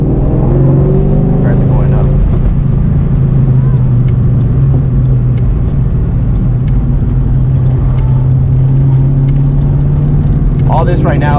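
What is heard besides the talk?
2003 Ford Mustang driving canyon corners in second gear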